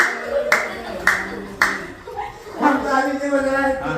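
A drunk teacher claps in a classroom while starting a Ram bhajan: about four sharp, evenly spaced hand claps, then his singing voice takes over with murmurs from the room underneath.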